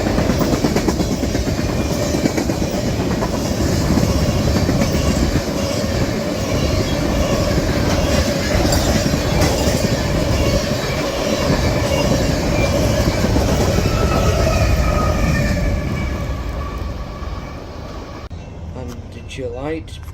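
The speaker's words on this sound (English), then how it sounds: "I caught CSX B728 heading back to CPKC with a CP ES44AC leading, a KCS ET44AC on the rear." CSX freight train B728 rolls past with a CP ES44AC locomotive leading and a KCS ET44AC on the rear, a loud steady rumble of rail cars with wheel clatter and squeal that fades toward the end.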